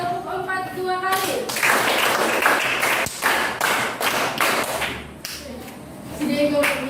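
A group claps on command in a classroom or training session, loud, close bursts of rhythmic hand clapping in short sets, and an instructor speaks between the rounds.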